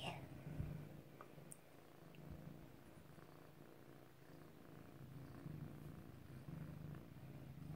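A cat purrs close by in a quiet room, a continuous low rumbling purr with a soft, even rhythm throughout and no talking.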